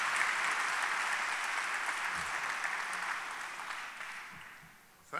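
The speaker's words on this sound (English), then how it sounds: "Please give him a round of applause." An audience applauding to welcome the lecturer Dr. Kevin Starr, a steady, fairly soft wash of clapping that thins and fades out near the end.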